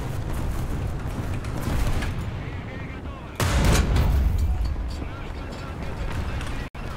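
Tank cannon fire from a War Thunder match with a KV-1 facing a T-34: a sharp boom lands about midway, set among ongoing game noise and rumble, with players talking over it.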